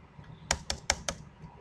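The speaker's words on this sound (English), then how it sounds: "and if I start typing something here" Four quick, crisp keystrokes tap on a computer keyboard in an uneven burst, close and fairly loud against a quiet room.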